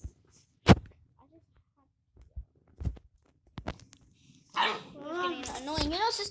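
A small puppy barks in a few sharp, separate yaps, then a voice talks at length over it.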